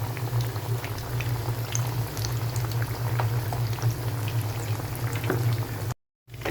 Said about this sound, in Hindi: इसी तरह 3 से 4 मिनट जो है दूसरी साइड को हम फ्राई करेंगे